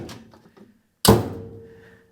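An insulated vehicle door with a metal-on-metal bear claw latch and no door seals slams shut in one solid, deep thunk that rings briefly. Faint indistinct sounds come before it.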